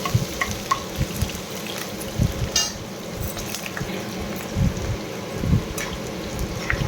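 Chopped onion fries in oil in a pan for an Odia dish of dried prawns with radish, giving a steady low sizzle with soft stirring scrapes and irregular bumps throughout.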